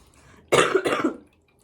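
A single harsh cough in two quick bursts, close and loud, with quiet before and after.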